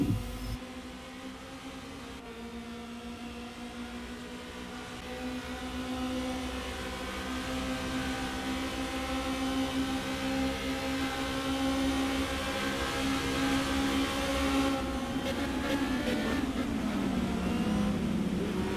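Racing video game cars accelerating down a long straight on a Mexico circuit, a sustained engine drone that rises gradually in pitch and loudness, then shifts sharply near the end as the cars change gear, with no talk over it.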